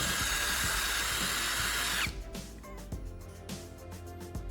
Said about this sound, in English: I'm drilling another hole on the side of the top mouse shell.